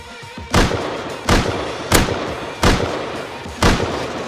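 Gunfire in the survival video game Rust: five sharp, loud shots fired at a steady pace about one second apart over a constant low background din, with no voices.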